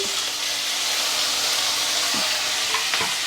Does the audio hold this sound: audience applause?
no